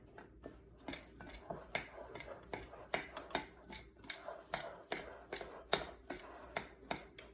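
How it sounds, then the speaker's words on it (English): Apple crisp topping mixed in a bowl: a series of close, sharp clinks and scrapes of a utensil against the bowl, irregular but steady, with no voice over them. "So we're going to go ahead and mix that all nicely"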